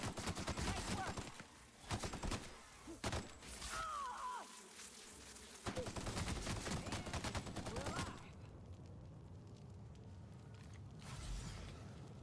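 Gunfire in the sci-fi video game The Outer Worlds: Spacer's Choice Edition: bursts of rapid shots and weapon clatter alternate with mechanical creaks and quieter gaps, with game sounds continuing underneath.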